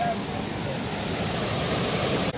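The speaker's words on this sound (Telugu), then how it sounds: "వాటర్ ఫ్లో అయితే చూసారు కదా, హెవీ హెవీ" Heavy rainy-season flow at Kalu waterfall in Malshej Ghat, Maharashtra, as a loud, steady roar of rushing water that fills the whole short stretch without let-up.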